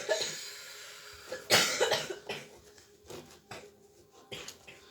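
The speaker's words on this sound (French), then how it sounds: "C'est ma fille qui tousse à côté" A young girl coughs several times in short bursts, fairly close, with quiet pauses and faint household clatter between.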